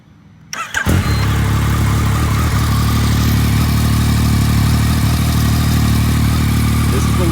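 Yamaha XSR900 motorcycle starting up: a short burst as the engine catches after a quiet moment, then a steady, close, loud idle rumble that continues evenly to the end.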